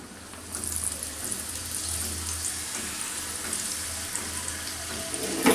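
Raw-meat wontons for a crispy Chinese wonton recipe, dropped into hot oil in a frying pan, give a steady close sizzling hiss that holds even throughout and swells briefly at the end, with no talking.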